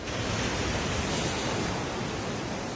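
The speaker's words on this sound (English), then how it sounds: "where the waves crash." Ocean surf crashing against coastal rocks below towering Peruvian cliffs, a dense, loud, unbroken roar of churning water filling the whole stretch without any talk.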